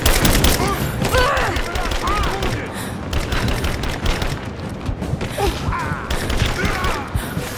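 Gunfire from the Rise of the Tomb Raider video game: loud, dense bursts of rapid shots and booms in a heavy firefight, with voices and grunts mixed in.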